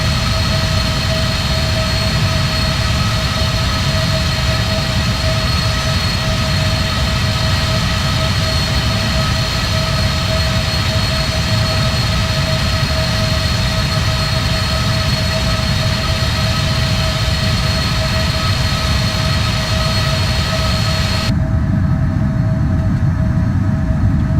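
Jet engine of a PMDG 777F freighter in the Prepar3D flight simulator, a loud continuous roar with a steady whining tone holding unchanged for over twenty seconds, the high hiss dropping away near the end.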